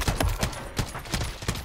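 Rapid gunshots in a video game gunfight, a string of sharp evenly spaced bangs about every fifth of a second, close and punchy with no talk.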